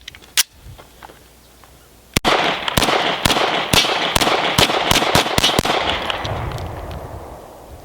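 A Lionheart LH9 pistol fires a magazine of mixed Federal HST, Hydra-Shok and Speer Gold Dot hollow point rounds, one shot then a rapid string of about a dozen sharp, loud cracks ringing out outdoors.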